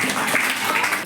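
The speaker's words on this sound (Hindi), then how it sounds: "तालियां बजा दो एक बार" A classroom audience breaks into brief applause, a dense burst of many hands clapping together for about a second before cutting off.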